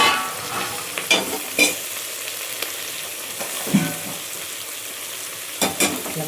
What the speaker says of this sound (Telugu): మంచిగా కలపాలి. ఒక 2 నిమిషాలు ఉడకనిద్దాం నూనెలో.